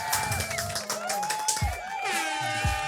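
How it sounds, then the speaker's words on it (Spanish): Cheering and applause from a lively crowd rise in a sustained wash of whoops and clapping, loud and continuous, with voices shouting over it. "¡Y aplausos virtuales!"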